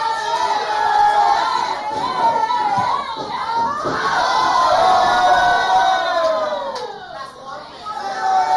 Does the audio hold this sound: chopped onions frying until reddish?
no